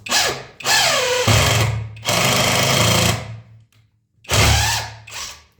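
A DeWalt 850 impact driver drives a screw into a knot in wood, loud close bursts of whirring hammering in about three runs with brief pauses between them.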